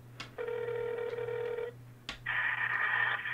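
An outgoing phone call rings back twice, two steady electronic ring tones each lasting over a second, separated by a short pause, heard alone and fairly faint over a low hum.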